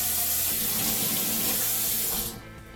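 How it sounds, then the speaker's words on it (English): Tap water runs steadily into a sink as a kitchen knife is rinsed beneath it, a loud continuous splashing rush that cuts off sharply near the end, leaving only faint room tone. "let me give my knife a quick rinse"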